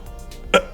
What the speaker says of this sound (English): What's with all the coughing?